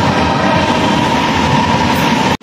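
MRT metro train heading to Trinoma, a steady loud rumble of the rail car running on the track with a constant hum, close and continuous, with no voices.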